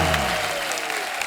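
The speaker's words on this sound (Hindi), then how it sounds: "जोरदार तालियां होनी चाहिए।" A studio audience on a comedy talk show claps in a thick, steady burst of applause, loud and continuous throughout the brief moment.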